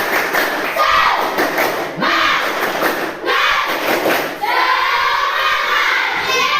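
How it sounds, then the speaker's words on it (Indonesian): Schoolchildren in a classroom lesson join their teacher in the rhythmic 'tepuk semangat' clapping chant, loud group claps and thumps punctuated by excited shouting voices, crowded and close. "Sebelumnya kita tepuk semangat dulu yuk"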